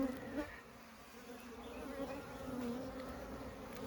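Honey bees hum around open hive frames during a transfer into 10-frame boxes. The buzzing is a faint, continuous drone with a slight wavering pitch, close and steady throughout, and no one speaks.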